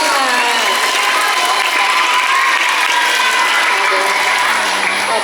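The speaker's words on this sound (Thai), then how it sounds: "ขอเสียงปรบมือด้วยค่ะ" Audience applause and cheering at a Mother's Day school performance, a loud, dense crowd wash throughout, with children's voices shouting over it and a voice rising near the end.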